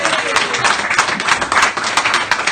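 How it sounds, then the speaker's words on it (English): Audience applause for Matt at a live comedy show in Brighton: dense, continuous clapping from a crowd, close and loud, steady throughout with no voices on top. "Give Matt a round of applause"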